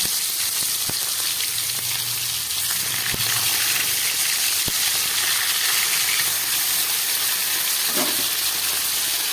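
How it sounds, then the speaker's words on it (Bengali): Fish pieces frying in hot oil with fenugreek and radhuni seeds, a close, steady crackling sizzle with a few sharp spatters and pops. "এই মেথি রাঁধুনি তেলের মধ্যে আমি মাছগুলোকে ভেজে নিচ্ছি।"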